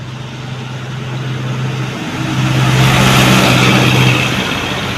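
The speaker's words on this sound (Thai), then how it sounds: "รถคันใหญ่ขนมันสองกับรถไถค่ะ" A big truck hauling cassava and a farm tractor pass close by. A loud, low engine rumble swells as they go past, then eases slightly. No speech is heard over the engines.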